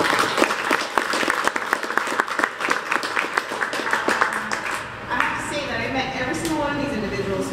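Audience applause at a WooCommerce meetup in Arizona, a steady run of many clapping hands close by. Toward the end it thins into scattered claps and crowd murmur, with voices talking over it.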